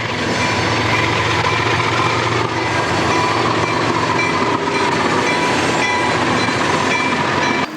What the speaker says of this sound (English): Here comes the next GW empty ore cars. Notice the slipping GE on the head end.